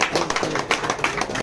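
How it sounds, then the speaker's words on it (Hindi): Audience at a political party gathering welcoming new members with applause, a brief burst of many hands clapping in fast irregular patter, fairly close and moderately loud. "हम सब जोरदार तालियों से स्वागत।"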